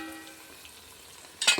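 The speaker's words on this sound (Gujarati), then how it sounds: "અને હવે આપણે ટમેટા નાખી દઈએ" Chopped tomatoes dropped into a hot pan for jackfruit curry, a quiet hum giving way to a sudden burst of close sizzling and spatter near the end.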